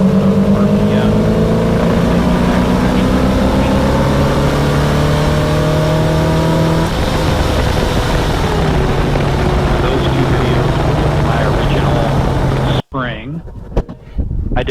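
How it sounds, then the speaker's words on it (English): A car fitted with a Holley 4160 vacuum-secondary carburetor accelerates in a third-gear roll-on, its engine drone rising steadily in pitch and loud throughout, ending with a sudden cut and a few faint knocks. "Now here's a 3rd-gear roll-on, which is a little slower, and it gives you more accurate understanding of RPM."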